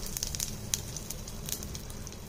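Mustard seeds spluttering in hot oil, a faint, steady crackle of small pops and sizzling with no talk.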